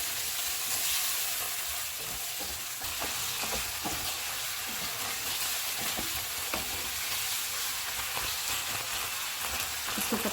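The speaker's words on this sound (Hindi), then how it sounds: "तीन मिनट के बाद टमाटर की प्यूरी डालेंगे और इसको हम 2 से 3 मिनट तक पकाएंगे" Tomato puree sizzles and bubbles in a hot pan while cooking for garlic chicken spaghetti: a continuous, fairly quiet crackling hiss with occasional stirring scrapes and no voices.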